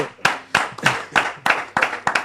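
A congregation clapping in steady rhythm in a church service, about eight sharp claps close by and alone with no voices.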